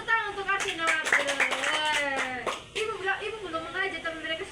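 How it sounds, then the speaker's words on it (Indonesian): Schoolchildren in an Indonesian classroom clap their hands for two classmates, a quick burst of claps mixed with children's voices and singing-like chatter from nearby. "Tepuk tangan untuk Asin dan Martin."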